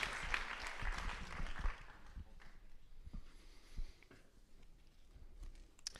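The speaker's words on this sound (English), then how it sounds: "let's give a round of applause to all the family that supported all these folks over all these years." Applause from the audience at an employee recognition program, scattered and fairly faint, thinning out after the first couple of seconds into sparse claps and room noise.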